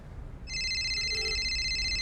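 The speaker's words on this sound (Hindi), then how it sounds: "किसका फोन है देखो?" A telephone rings with a steady electronic trill that starts half a second in and holds at a fairly loud level nearby, alone without talking.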